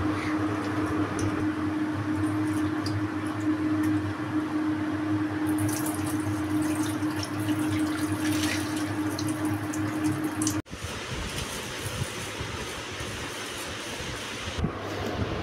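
Gobindobhog rice is washed in water, with a steady run of water and sloshing and swishing that stay close and continuous. Partway through comes a sudden shift, as if the tap or the vessel changes.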